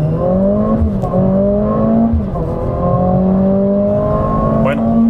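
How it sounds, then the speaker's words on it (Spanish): Mercedes-AMG CLA 45 S coupé launching in Race Start launch control mode in Sport Plus with the sport exhaust open, engine revs climbing in rising sweeps broken by quick gear shifts, loud and close from inside the car. "se activó el modo Race Start, que es el Launch Control"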